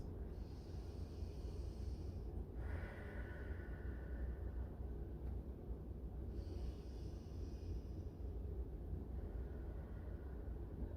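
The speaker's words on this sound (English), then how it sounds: "Let's take 2 nice deep breaths." Deep, slow breaths taken during a forward-fold yoga stretch, with long soft inhales and exhales over a quiet low rumble of room noise.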